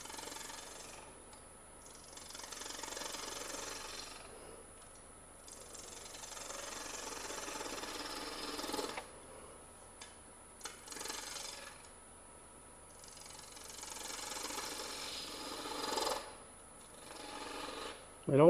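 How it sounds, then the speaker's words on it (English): A detail gouge cuts grooves into a wooden snowman carving with repeated rasping, scraping strokes in several bursts, close and moderately loud, with brief pauses between cuts. "So now I can come with my detail gouge and cut my next 2 grooves."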